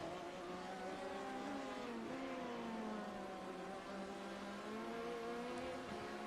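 LMP prototype race cars scream along the Mulsanne Straight at Le Mans in a racing video game, their engines holding sustained high-pitched whines with gliding pitch shifts as they pass and change gear, several cars overlapping, no talk.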